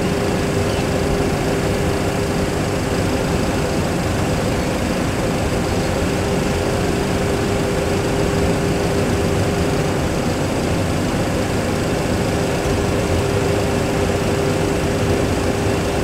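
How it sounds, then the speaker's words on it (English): Steady, loud roar of Boeing 737 Classic engines in reverse thrust during the landing roll, a dense constant rumble with a faint tonal whine, heard from inside the flight deck with no pauses. "Speed brake up, reverser unlocked."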